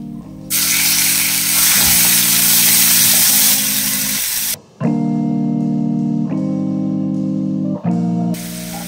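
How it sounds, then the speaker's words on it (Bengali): Ginger garlic paste fries loudly in a pan for a Chicken Changezi dish, a dense steady sizzle that fades as the pan is stirred, then surges again with a brief break near the end. "আদা আর রসুন পেস্টটাকে ফ্রাই করে নিলাম।"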